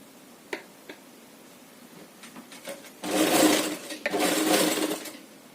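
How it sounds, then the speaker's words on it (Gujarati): A sewing machine stitches folded fabric for a handmade rose latkan, starting with a few light ticks and clicks, then breaking into two loud bursts of fast whirring, close up with no talking. "આ 3 ની આપણે અહીંયા સિલાઈ લગાવી દેવાની છે"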